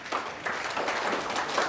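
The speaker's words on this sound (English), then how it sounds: "A big smile and a big round of applause." A conference audience at the International Galvanizing Conference 2014 bursts into dense, continuous applause, many hands clapping together in a full, close, steady wash that lasts the whole moment.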